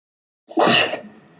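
A single sharp, loud sneeze bursts out after silence, then trails off into a brief breathy tail.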